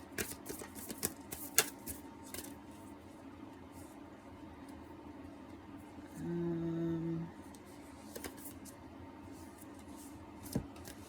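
Tarot cards being shuffled, with faint, irregular clicks and light flicks scattered over a quiet room hum; a few sharper taps stand out, and cards occasionally stick.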